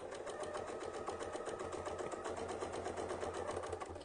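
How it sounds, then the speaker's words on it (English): A sewing machine runs steadily while stitching an arc along a ruler template, its rapid even needle rhythm continuous and fairly quiet, with no talk over it. "So now when I sew along that other side, I can go ahead and put this other arc in on this side."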